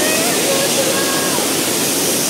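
A hidden waterfall on the trek to Arjunkada near Kharghar gives a loud, close, unbroken roar of falling water, a broad wash of rushing noise that holds steady from start to finish.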